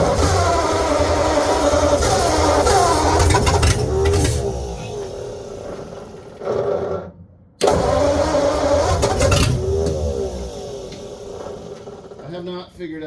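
A 1948 Ford engine cranks and catches, running with a rough rumbling roar that surges and fades, cuts out briefly, then fires again; voices speak nearby between the engine bursts.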